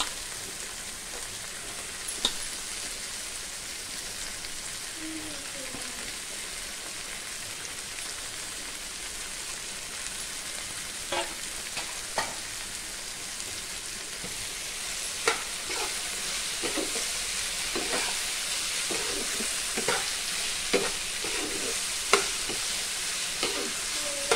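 Katla fish pieces frying with softened sautéed tomato in a pan, a steady close hiss of sizzling oil with occasional stirring scrapes and pops, no talking.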